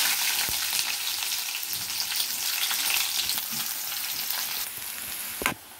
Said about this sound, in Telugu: నూనె అయితే కాగింది, తిరగమాత గింజలు వేసుకుంటున్నా. తెల్లగడ్డ పాయలు 2, ఎర్రగడ్డ పొలుపులు